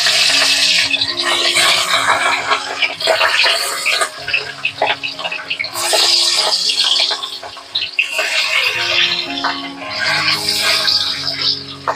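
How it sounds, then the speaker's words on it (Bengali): Pieces of rohu fish frying in hot oil in a wok, a loud steady sizzle and crackle that swells and eases, with stirring and scraping sounds throughout. "এবার মাছটা লাল লাল করে ভেজে নেব।"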